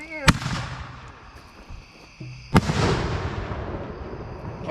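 Custom pyrotechnic fireworks at a birthday party go off with two sharp, loud booming blasts a couple of seconds apart, each followed by crackling and rumbling echo, with people talking faintly.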